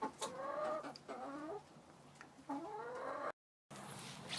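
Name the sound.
hen clucking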